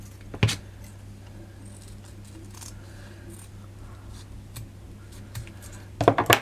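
Scissors snip through ribbon ends during a ribbon petal and leaf craft: one sharp cut near the start and a quick cluster of snips at the end, with a quiet stretch of faint handling between.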